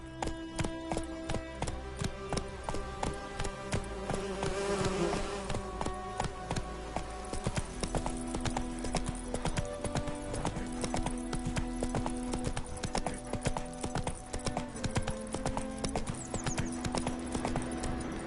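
Horse hooves gallop in steady rapid clip-clop rhythm in The Witcher video game, close and continuous, with occasional snorts over a busy game soundscape.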